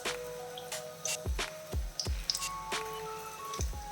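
Puffed rice snack batter is dropped in small portions into hot oil over a medium flame. Soft, quiet plops with faint sizzling land one after another at irregular intervals.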